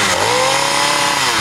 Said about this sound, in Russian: Звуки бензопилы и суровая техника.